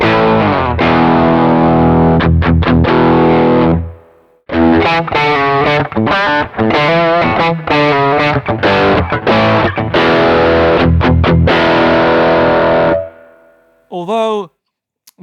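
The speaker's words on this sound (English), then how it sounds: "Let's try some distortion" A Baum Vega Revolt electric guitar played loud through heavy distortion, sustained chords and choppy riffs with abrupt stops, a short pause near four seconds, and a brief bent note trailing off at the end.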